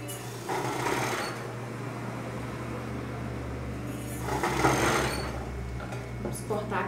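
Domestic sewing machine stitches bias binding onto a bra in a steady, continuous motor hum with the needle's rapid rhythm, briefly louder in two bursts, close up and with no talk.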